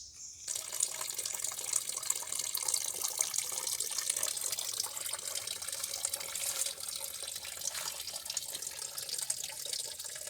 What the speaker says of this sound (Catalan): escoltant el so de l'aigua i el so dels ocells